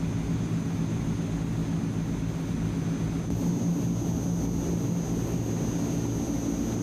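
Transall C160 turboprop engines under applied power, a loud, steady, dense drone with a whining tone above it, heard continuously from inside the aircraft during aerobatic flight.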